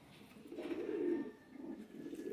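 Sialkoti and Kasuri pigeons give faint, low, throaty coos, a longer rolling call followed by a shorter one. They sit close but quiet, with no talking over them.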